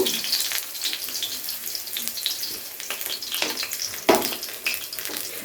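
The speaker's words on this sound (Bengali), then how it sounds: "দেখুন বেগুনগুলো ভেজে নেওয়া কিন্তু হয়ে গেছে বেগুনগুলোকেও এবার তুলে নেব" Eggplant pieces frying in hot oil for a fish-head chhyachra dish, a steady close crackling sizzle with a brief louder spatter near the end, no voices.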